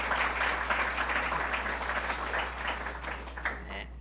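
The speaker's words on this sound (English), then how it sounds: "Let's give a round of applause to Hope Knight" Crowd applauding at a remarks event for Hope Knight, leader of Empire State Development, a steady roomy clapping that tapers slightly over four seconds, with a low electrical hum underneath.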